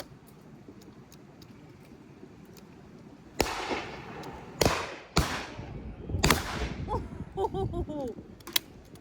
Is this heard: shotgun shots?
yes